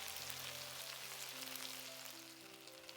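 Sauce sizzling in a hot pan with Mongolian beef and vegetables in a stir-fry, a soft continuous hiss with faint crackle and a light ringing tone in the background.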